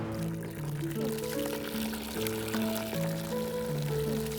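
Water runs steadily from a tap into a bucket, a continuous pouring stream with a rising fill tone, heard moderately close and fairly quiet.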